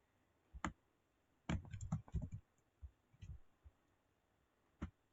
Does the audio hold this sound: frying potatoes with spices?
no